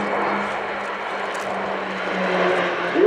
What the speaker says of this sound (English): are flying a Swiss turboprop airplane Mark 59M